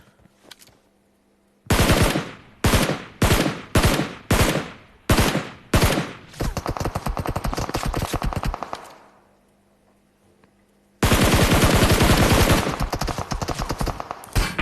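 Video game gunfire rattles close and loud in a string of short automatic bursts, then a longer sustained volley, a pause of near silence, and another long unbroken burst.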